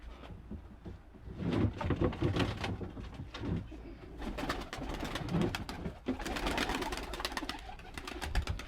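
Homing pigeons released from their loft coo nearby in repeated soft, throaty calls, with bursts of flapping and rustling throughout and a brief knock like a door or drawer near the end.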